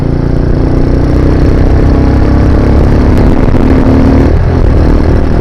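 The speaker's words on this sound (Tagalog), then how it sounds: "tumigil ako sa gilid ng kalsada gawa ng parang may naririnig akong kakaiba sa aking makina" A delivery motorcycle engine idles steadily at the roadside with an unusual humming drone, loud and continuous throughout with no talking.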